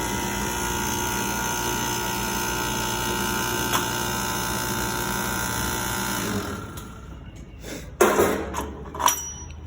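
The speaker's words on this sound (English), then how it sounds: "Then you're going to bring the RAM using the hydraulic pump." A Greenlee table bender's hydraulic pump runs as a steady, loud mechanical drone for about six seconds, then drops off into a few short, uneven knocks and clanks.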